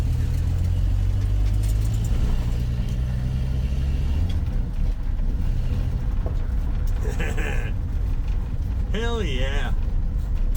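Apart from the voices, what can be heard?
1984 Dodge RAM D100 truck driving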